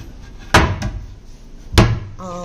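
A wooden kitchen cabinet door under the counter is handled in a house being viewed, giving two close knocks, then after a pause a third louder clack.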